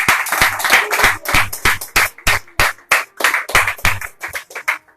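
A church congregation clapping in unison in a steady rhythm of sharp, close, loud claps, about three per second, with no talk over them.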